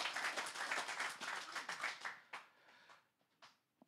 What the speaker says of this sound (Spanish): Le damos un aplauso grande al Señor.